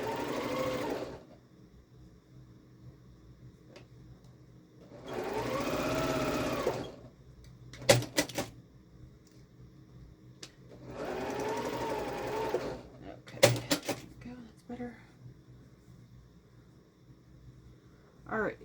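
A sewing machine stitches the seams of a Christmas quilt block in three separate steady runs of whirring, each a few seconds long. Quiet pauses with small clicks and handling noises fall between the runs.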